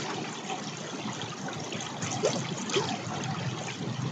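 River water flows and trickles steadily at close range, a broad, continuous rushing wash with faint splashy ripples and no voices over it.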